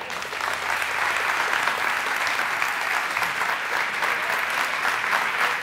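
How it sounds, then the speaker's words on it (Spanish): Enthusiastic audience applause at a live science comedy show fills the room, steady and dense clapping sustained throughout without pause. "No aplaudáis tanto"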